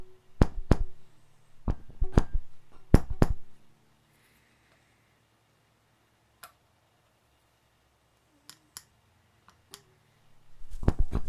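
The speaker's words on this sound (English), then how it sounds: "I click it against the magnet on the pickup" Sharp metallic clicks from a magnetic object tapped against the pickup magnet of a Donner DLP-124 Les Paul-style electric guitar, coming in quick irregular bursts at the start and end, with a few isolated faint ticks between.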